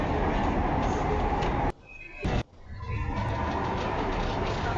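A Pune metro train runs at speed with a steady loud rumble and roar. Near the middle it dips sharply for a moment, then the noise builds back up.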